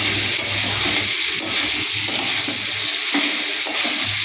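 Water is added to a cauliflower-stalk curry cooking in a pan, a loud continuous rushing and bubbling hiss that holds steady throughout.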